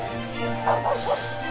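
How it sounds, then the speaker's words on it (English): In Simon the Sorcerer 3D, a dog gives three quick yapping barks, moderately loud and set against a busy game soundscape with steady ambient noise. "That dog scares me."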